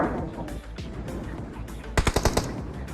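Gunfire in the mobile battle royale BGMI (PUBG Mobile), a rapid cluster of five or six sharp, loud shots in quick succession near the end, preceded by distant scattered pops and game ambience.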